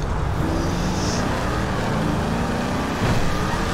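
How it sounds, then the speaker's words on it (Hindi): Fast-driving modified Mustang GT in GTA 5, a continuous loud engine drone and road rush held close and steady throughout. "इतनी तेज चल रही गाड़ी इसकी टॉप स्पीड टेस्ट कर नहीं सकते"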